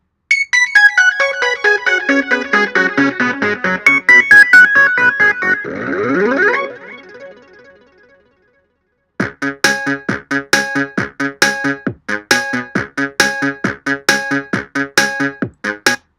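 Bright, chiptune-style electronic background music in a Unity game, with rapid repeating notes, a brief swooping glitchy pass, then a short silence before the cheerful melody loops again.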